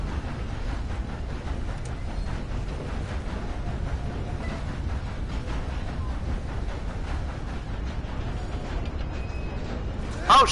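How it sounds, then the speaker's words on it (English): Continuous low rumble of a moving train in Red Dead Redemption 2, a steady rolling roar with faint clatter running throughout, fairly loud and unbroken, with a brief bump right at the end. "Fell off the goddamn train"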